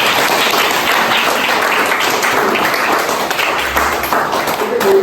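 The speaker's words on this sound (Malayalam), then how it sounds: "ആദ്യം എല്ലാവരും ക്ലാപ്പ് ചെയ്തോളൂ." A group of family members on a trip applauds together at the end of a musical chairs game, the broadband clapping sustained and fairly loud through the whole stretch with some faint voices mixed in.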